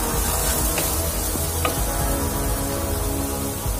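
Masala with a splash of added water cooks in a pan until the oil separates, giving a steady, close, soft sizzle that runs throughout with a few faint stirring clicks.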